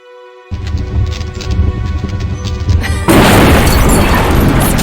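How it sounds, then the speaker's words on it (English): Fireworks exploding in an old city: a quiet start gives way to a loud booming burst, then an abrupt, sustained crackling roar of blasts that stays loud and dense to the end. "Fireworks to keep them busy while I escape this cursed old city."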